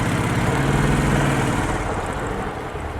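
Royal Enfield Classic 500 BS4 motorcycle engine running steadily while the bike rides around a corner, a loud continuous low thumping drone throughout that eases slightly toward the end.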